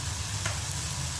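Red chilli powder, turmeric and salt sizzling in hot oil for a dried fish sukka, a short, loud, steady hiss with a dense crackle underneath.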